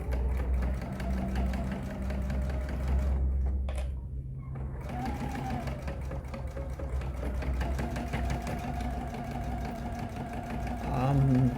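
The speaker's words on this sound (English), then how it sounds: "Now I'm going to sew across both of those and close in that box corner." A sewing machine runs steadily, stitching across a box corner seam on a fabric and vinyl basket, with a brief pause partway, under people talking throughout.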